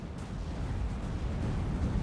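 Artillery barrage in the real-time strategy game Act of Aggression, heard as a steady, rumbling low roar of distant explosions blending into one continuous boom that holds for two seconds.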